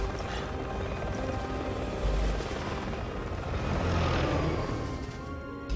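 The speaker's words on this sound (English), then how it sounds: "I get the impression that helicopter is still looking for me." A helicopter in the video game Resident Evil 6, a steady, loud rotor and engine drone that swells slightly midway and holds throughout, with no talking.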